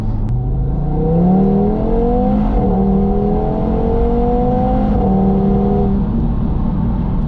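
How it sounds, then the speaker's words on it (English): An Audi TT RS with an APR Stage 1 tune accelerates hard, its five-cylinder engine droning loudly and rising in pitch through successive gear changes, heard from inside the car with no talk. "Genuinely does sound like a supercar."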